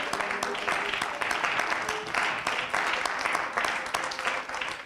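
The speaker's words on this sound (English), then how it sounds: "Clap your hands unto God." A church congregation claps along during a service, a thick, continuous patter of many hands at moderate distance with some rhythmic pulsing, voices faintly mixed in.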